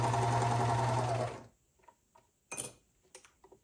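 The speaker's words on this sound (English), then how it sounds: "I'm going to be sewing and using that curve to maintain the pattern." A serger runs fast and steady while sewing fabric for a bra, a loud continuous whirring stitch lasting over a second before stopping, followed by a few small ticks and handling clicks.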